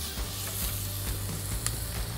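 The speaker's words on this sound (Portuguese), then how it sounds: "Agora nessa panela, com essa borrinha da linguiça, a gente vai colocar aqui um dente de alho" A whole garlic clove sizzles in leftover sausage fat in a pan, giving a steady, close, crackling fry with small pops throughout and no talk.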